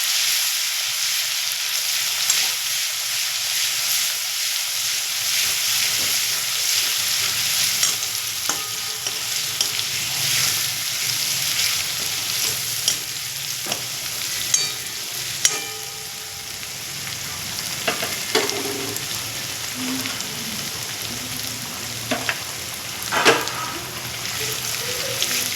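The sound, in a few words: garlic paste frying in oil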